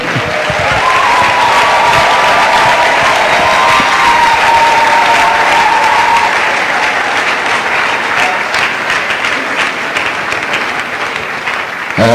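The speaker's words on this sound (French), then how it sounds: "Acclamons, acclamons, acclamons." An audience at a church marriage event bursts into loud, sustained applause, a dense wash of clapping that continues for about twelve seconds and tapers slightly at the end.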